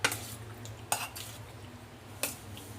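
A utensil stirs chicken tocino with seasoning in a bowl, giving three sharp clinks against the dish between soft scraping and mixing sounds, close up and with no voices.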